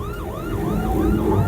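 An ambulance siren wails in city traffic, its rising and falling sweeps repeating steadily and loud, with road and engine rumble underneath.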